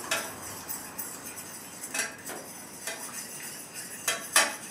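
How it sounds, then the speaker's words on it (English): A mopping sauce for smoked pork shoulder is stirred in a pot, with a spoon clinking and scraping against the metal sides in an irregular rhythm, fairly quiet, with no talking. "We're going to stir that up real good in there"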